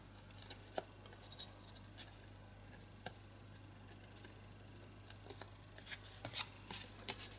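Scissors snipping off the corner of a paper art tag in a craft setting, with a few crisp isolated cuts spread out and a quicker cluster of snips at the end over a low steady hum.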